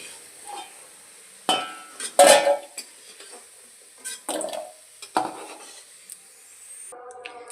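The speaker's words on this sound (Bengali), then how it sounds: "আলুটা কিন্তু লাল লাল করে ভেজে নিয়েছি। এবার তেল থেকে তুলে নেব।" Fried potatoes are lifted from hot oil in a pan, with a low sizzle underneath and a few scraping, clinking utensil strokes against the pan in short bursts.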